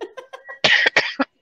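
A person coughing in quick succession, a few lighter coughs followed by two or three louder, harsher coughs, close and clear.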